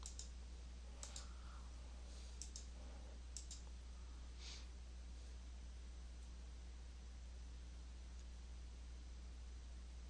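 Sharp computer mouse clicks come in quick pairs, several double clicks close together, while slide show software is used. They sit over a steady low hum and then give way to faint room noise, with no talking.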